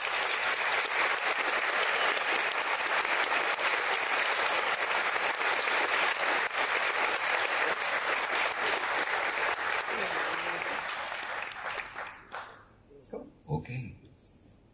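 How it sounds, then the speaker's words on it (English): An audience at the GROW Paris 2018 conference applauds after a talk, with dense, loud clapping sustained for about twelve seconds before it thins out and a voice speaks near the end. "Some more claps."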